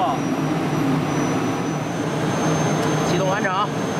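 The gas turbine engine of a Soviet Cold War-era T-80 tank runs at the end of its start-up. It makes a steady jet-like roar with a high whine, and a person talks over it.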